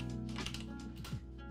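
Quick keystrokes on a computer keyboard, a short run of soft clicks heard up close over a steady background hum, with no talking.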